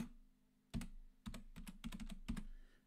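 A folder name is typed on a computer keyboard in Windows 11. About half a dozen quiet, separate keystrokes tap out at an uneven pace, with no voices.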